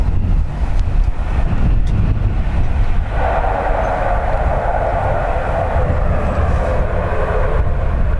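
An Aer Lingus-style EI 161 airliner arriving at Dublin from Heathrow in gusty crosswind: a loud, steady broadband roar with wind buffeting, swelling into a stronger engine rush midway and holding to the end.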